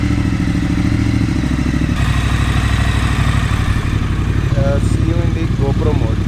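A motorcycle engine runs loud and close during a night ride under clear skies, its steady mid-range drone carrying on with rattles and thumps throughout.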